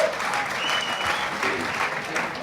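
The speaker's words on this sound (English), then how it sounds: "And again, another ripple of applause from the appreciating Quick 20 fans." Football fans of KVV Quick '20 applaud in a stadium during a match against Southampton, a continuous ripple of clapping with faint crowd murmur underneath.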